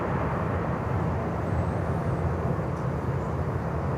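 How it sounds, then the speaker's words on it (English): DC-8 cargo jet on approach into Miami airport, a broad continuous roar of jet engines heard from the ground, steady and loud without letup. "DC-8 on approach"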